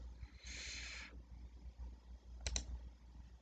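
A computer mouse gives two quick, faint clicks near the end, following a brief soft rustle, against low steady hum in a quiet room.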